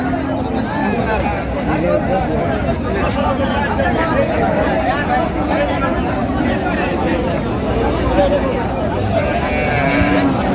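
Cows and calves moo repeatedly amid a noisy crowd at the Ambari livestock market in Dinajpur, with many voices chattering and calling out prices close by throughout.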